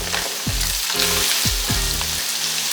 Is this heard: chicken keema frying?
yes